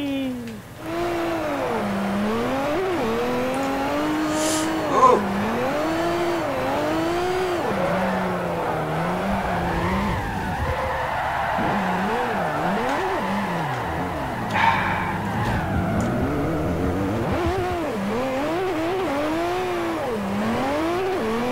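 A car drifts around the Tsukuba circuit in Forza Motorsport 4: the engine revs and wavers up and down steadily, with tire squeal and skidding, loud and sustained over about twenty seconds.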